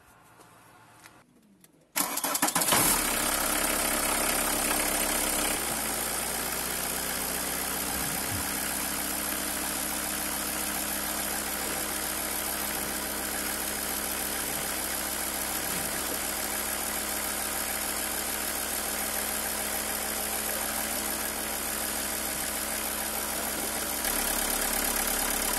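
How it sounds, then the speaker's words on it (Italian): A VW Caddy diesel engine turns over and settles into a steady, loud idle that rumbles on continuously with no other sounds. "Adesso accendiamo la macchina e lo lasciamo al minimo un po' di tempo"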